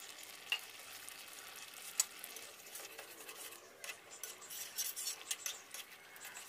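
Rohu fish pieces added to a pan of curry with winter cauliflower and stirred, giving a faint wet sizzle, soft scraping and a few light clinks from a utensil against the pan.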